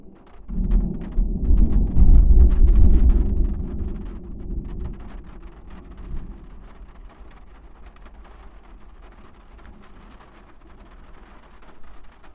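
Thunder during a rainstorm at a rainy campsite, a loud deep rumble building over the first few seconds then fading into a low steady wash of rain with no talking.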